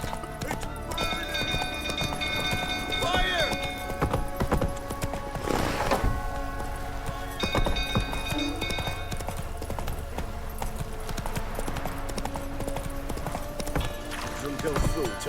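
A horse gallops in The Witcher 3: Wild Hunt, rhythmic clip-clopping hooves running steadily throughout at moderate level beneath ongoing game talk and background sound.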